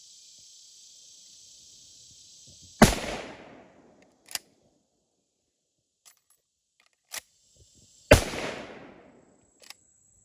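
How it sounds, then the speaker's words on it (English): Two loud, sharp shots from a 1962 Savage 99E lever-action rifle in .308 fired outdoors several seconds apart, each ringing off with a short echo tail, with faint clicks and a steady high tone in between. "So I'm going to shoot a couple more rounds."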